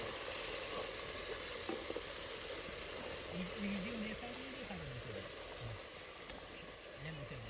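Onion and chillies frying in a pan, a quiet steady sizzle with a faint voice murmuring partway through.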